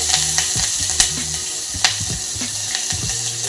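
Green chillies sizzle loudly in hot oil with cumin and asafoetida, a steady close crackle broken by sharp spattering pops and scrapes of stirring, with no voices.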